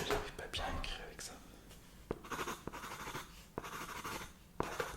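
Handwriting scratches on paper with an awkward pen while a French-speaking voice whispers softly, with intermittent stroke sounds and taps close to the microphone.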